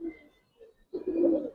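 A racing giribaz pigeon coos in a loft, with a short soft coo first, then a pause and a louder, fuller rolling coo close by.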